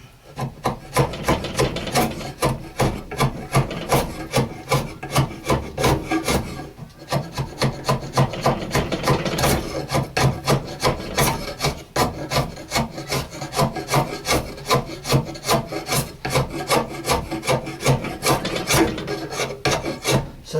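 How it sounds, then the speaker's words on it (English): A draw knife shaves an Osage orange bow stave, rasping in quick, rhythmic strokes. The close scraping repeats steadily, pauses briefly partway through, then carries on at the same pace. "So I'll get this draw knife in there."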